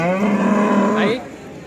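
A cow at a cattle market gives a loud, close moo with a sustained tone that rises briefly at the end, heard alone.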